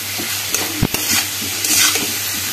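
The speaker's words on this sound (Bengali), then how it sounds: "এবার এই বাঁধাকপিটা দিয়ে দেবো, ভালো করে মশলার সাথে এটাকে কী বলবো কষিয়ে নেব।" Shredded cabbage stir-fried with spices and potatoes in a pan: steady sizzling under quick scraping and tossing strokes of a spatula, close and fairly loud.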